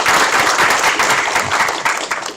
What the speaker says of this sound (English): how about another round of applause for our kids?